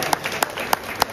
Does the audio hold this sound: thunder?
no